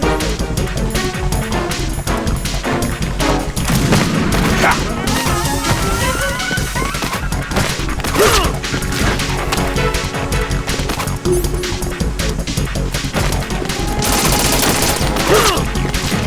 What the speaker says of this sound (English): Best weapon is the grenade launcher.